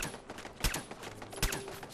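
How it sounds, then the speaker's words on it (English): Turret gunfire in Fallout 4, a few sharp bursts of shots with rattling fire between them, moderately loud and at mid distance with no talk over it. "There's a turret. Sounds pretty beast."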